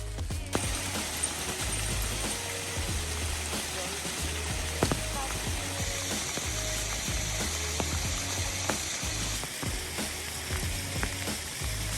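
Big, wet mixed rain and snow falls steadily in a winter wilderness in a constant crackling hiss, with scattered ticks and taps over a low engine-like rumble throughout.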